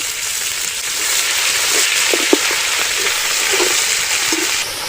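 Garlic and ginger paste frying in a pan for prawn pilau, a steady loud hiss of sizzling oil with a few soft pops and stirring ticks, continuous for several seconds.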